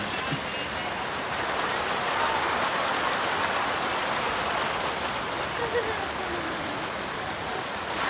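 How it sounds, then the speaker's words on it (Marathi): Heavy April rain pours steadily on an outdoor surface, a dense constant hiss throughout with a voice speaking over it. "गाईज पाऊस तर असा पडत आहे की जसा पावसाळा चालू आहे."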